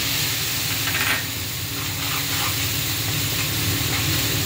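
Spice paste hits hot oil for a Bengali pabda fish curry, giving a continuous hissing sizzle that stays loud and even throughout.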